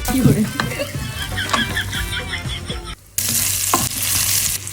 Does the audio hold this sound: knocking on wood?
no